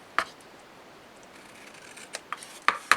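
Scissors snip through chipboard while shaping a small dog-house album holder, giving a few faint, sparse clicks and crisp cuts that grow louder and more frequent toward the end against a quiet background.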